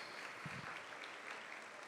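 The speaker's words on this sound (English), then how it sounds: "Let's give all our 3 judges a round of applause." Audience applause for the three judges at a Dancing With Our Stars charity dance competition in Evansville, a dense, steady clatter of many hands lasting under two seconds with no talk over it.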